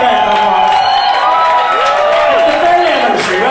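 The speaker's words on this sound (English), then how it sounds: "So give them a big round of applause." A nightclub crowd at a drag show anniversary night cheers and whoops loudly and steadily, voices rising and falling through the noise.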